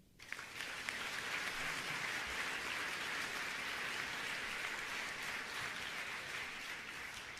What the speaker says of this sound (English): So please give a round of applause to John, to Satya,